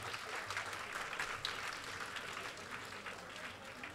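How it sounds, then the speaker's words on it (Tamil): A college audience at a Carnatic music and cultural festival gives a round of applause, a soft, distant patter of many hands clapping that runs steadily throughout. "நல்லா ஒரு கைத்தட்டு கொடுங்க"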